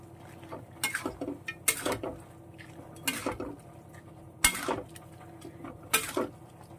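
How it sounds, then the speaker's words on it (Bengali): Small mourala fish being stirred in a cooking pan for a spicy Bengali chorchori, with a spatula scraping and clinking against the metal in several separate bursts over a low background hum. "মাছগুলো দেওয়ার পর একটু নাড়াচাড়া করে নেব।"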